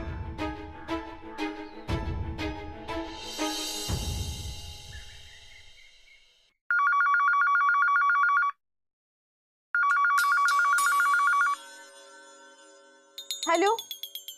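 A telephone in a Marathi TV serial rings twice in steady electronic bursts after a loud musical sting fades. A voice follows briefly after the ringing stops.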